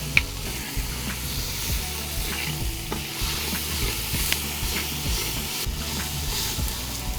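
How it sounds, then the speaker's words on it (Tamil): Eggplant frying with softened tomatoes for kathirikai kulambu: a continuous dense sizzle with faint stirring scrapes, steady and close throughout, with no talking. "இப்போ கத்திரிக்காய் போட்டுக்கலாங்க"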